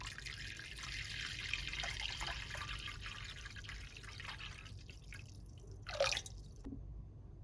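Water runs and trickles into a large pot around a cup, a steady pouring wash through most of the clip, closing with a few sharp drips and splashes near the end.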